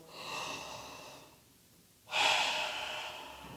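Slow, steady breaths during a gentle flowing yoga session, a long soft exhale fading to near silence, then a stronger, louder breath starting about two seconds in and tapering off, close and alone with no talk.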